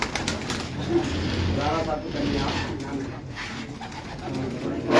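Pigeons kept by a breeder on a rooftop in Karachi coo softly in overlapping, rolling murmurs nearby while someone speaks over them.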